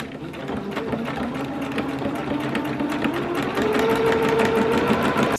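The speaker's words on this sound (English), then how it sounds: "So again, I'll zigzag around the edges and then join down the back" Sewing machine running steadily while zigzag stitching around the fabric edges of a trench coat's back pieces, a continuous close mechanical whirr that builds slightly louder toward the end, with no talking.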